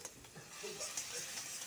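Food frying in a pan with a little turmeric: a soft, close sizzle with light stirring scrapes, fairly quiet and brief, with no talk.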